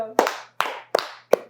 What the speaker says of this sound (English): Do we end it with a clap? I want to clap.